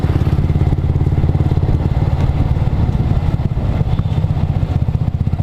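Clutch-type motorcycle coasting down a steep descent in fifth gear, a steady loud engine drone with rapid pulsing and rattly clatter throughout, near and continuous with no talk.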